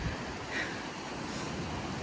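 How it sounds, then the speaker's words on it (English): Ocean waves roll in on the beach at Hug Point, a steady close surf wash with wind noise over it and no talk. "those waves are coming in"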